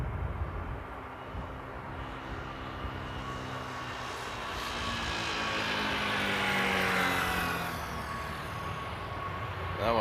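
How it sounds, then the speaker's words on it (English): A Fly One Airbus A321 arriving from Chisinau lands in a crosswind at Amsterdam airport. Its engines give a loud, sustained roar that swells toward the middle with a shifting whine, then eases off slightly. No voices are heard over it. "That's going to be the Fly One coming in from Chisinau, flight FIA 737 with an A321."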